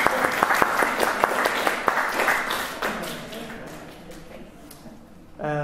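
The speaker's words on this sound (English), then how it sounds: "let's clap happy birthday" Churchgoers at a Wednesday worship service clap for a birthday in a burst of lively applause that gradually fades. A short voice comes in at the very end.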